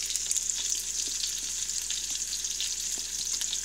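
Ingredients for a pasta salad fry in a pan, a steady close sizzle with faint crackles and pops throughout and no voices.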